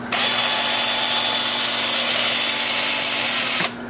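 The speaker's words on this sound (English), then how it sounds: "Then I'll switch over to my 80 grit 2-inch sanding disc." An 80-grit 2-inch sanding disc on a power tool sanding a plum wood bowl, a loud steady whirring grind that runs continuously and cuts off sharply near the end.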